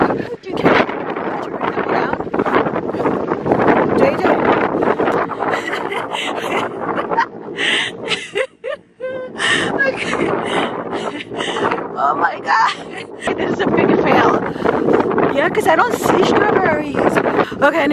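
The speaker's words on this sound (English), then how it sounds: "The wind." Strong wind blowing outdoors on a freezing day in Florida, buffeting the microphone with loud gusty rumble throughout while people talk over it.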